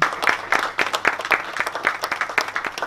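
A room full of people at a gathering applauding a guest's entrance, brisk clapping with distinct rhythmic peaks, moderately loud and unbroken, under faint murmur.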